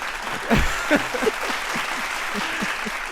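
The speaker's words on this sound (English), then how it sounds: "let's go ahead and give you the applause" An audience breaks into applause for a first-time caller on a dating talk show, a steady wash of clapping lasting a few seconds, with a brief voice or two rising over it early on.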